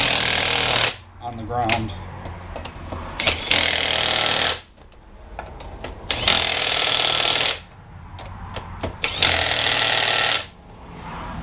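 A power tool runs lug nuts onto a 2003 Mazda Tribute wheel during a brake and rotor job, loud rattling bursts of a few seconds each, repeated several times with short pauses, while someone briefly talks between them.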